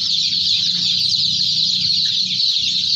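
Light Sussex chicks in a hatchery give a constant high-pitched chorus of peeping, loud and close, over a low mechanical hum.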